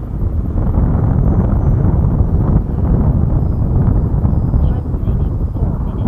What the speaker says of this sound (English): I got a pretty stiff wind.